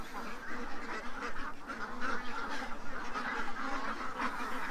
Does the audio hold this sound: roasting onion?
no